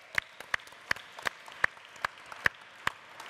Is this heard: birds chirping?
no